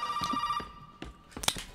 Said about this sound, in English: Let's answer this phone real quick.